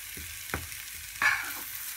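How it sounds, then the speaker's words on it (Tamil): Spice powders frying in hot oil for a dry egg masala give a steady close sizzle, broken by a couple of soft scraping stirs in the pan. "இது வந்து பொடிங்கெல்லாம் வேகிறதுக்கு ஒரு 2 மினிட்ஸ் கூட ஆயிருக்காது எண்ணெயில் வறுக்கிறதுனால"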